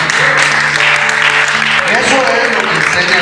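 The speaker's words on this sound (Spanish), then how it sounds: "¿Puedes dar un aplauso al Señor Jesucristo?" Church congregation applauding in praise of Jesus Christ, a dense, steady wash of clapping that fills the whole clip, mixed with voices, cheering and sustained tones like organ or singing underneath.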